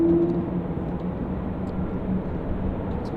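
A Qatar Airways jet taxiing at Sydney Airport, a steady low, distant engine rumble with a broad roar that holds even and unbroken.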